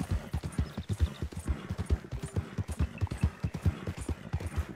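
A horse's hooves clip-clop at an even walking pace in a Wild West video game, steady distinct thuds close by, with no voices over them.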